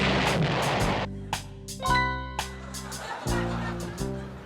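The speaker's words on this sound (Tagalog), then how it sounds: "Eto na yung pagsabog. Pagsabog ng bomba." Bomb explosion sound effect in a comedy show set in a restroom, with several sharp booming blasts separated by brief silences and an underlying tonal hum, voices and music in between.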